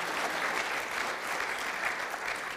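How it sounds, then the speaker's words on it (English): Audience applause fills a room at the close of a Friday question-and-answer gathering, a steady, dense clapping that carries evenly from start to finish with no voices rising above it. "You can applaud as well."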